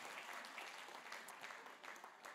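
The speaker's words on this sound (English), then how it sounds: "give them a round of applause" Church congregation giving a round of applause at a morning service, a continuous patter of many hands clapping, fairly faint and distant, steady throughout.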